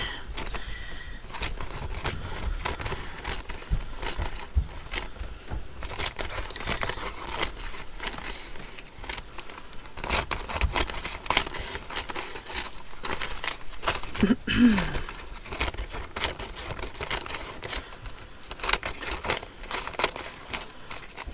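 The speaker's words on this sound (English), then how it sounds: "So I'm just going to cut this coffee filter here." Scissors snip a paper coffee filter into strips, irregular crisp cuts and papery crinkling rustles close by for around twenty seconds, with a little talking.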